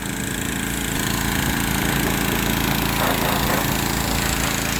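A Case IH Magnum tractor's diesel engine runs steadily during corn harvest, a loud, dense, unbroken roar heard up close and without talk.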